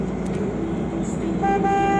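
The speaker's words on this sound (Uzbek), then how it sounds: "Orqadan mashinalar signal chalib yur deyapti" Cars stuck in traffic at a pedestrian crossing sound their horns from behind, a loud, sustained honk rising over the road rumble in the second half, with engines idling nearby.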